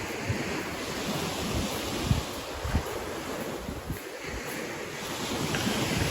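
Waves wash steadily onto a pebble beach at Hanioti, Greece, with a continuous broadband surf roar, a few louder surges and some wind noise across the microphone, no voices.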